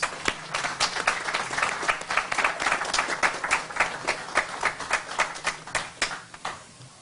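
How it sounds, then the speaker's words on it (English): Audience at an affordable housing conference in Rochester applauds steadily for several seconds, a dense wash of many hands with sharper individual claps standing out, fairly close and fading slightly at the end. "Please give everyone a round of applause"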